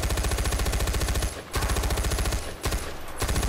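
Rapid assault rifle fire from a Far Cry 4 zombie survival custom map, dense repeated shots in loud sustained bursts with two short breaks, close and dominant with no talking.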